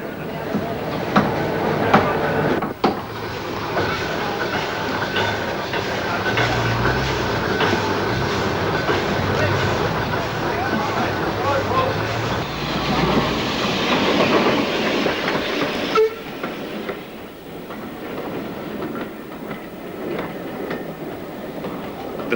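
A train hauled by a guest pannier tank locomotive from Tyseley rolls past on a railway, with steady clickety-clack of wagons, a sustained loud rumble that eases off toward the end.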